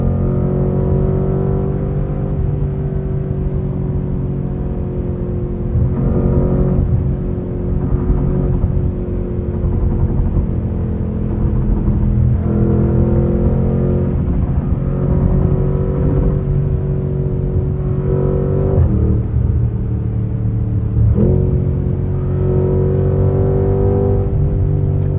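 A 2025 Porsche Cayenne Turbo GT roars through short, loud bursts of acceleration on a Dubai highway, its engine note rising and falling across several surges over a steady road rumble, with no talking.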